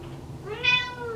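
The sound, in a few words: cat meowing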